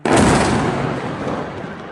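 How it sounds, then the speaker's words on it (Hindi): A loud explosion at Noor Khan airbase, a sharp blast onset followed by a long broad rumbling roar that stays strong and slowly fades over two seconds, with no talk. "एक एयरबेस है नूर खान, वहां कैसे धमाका हुआ है"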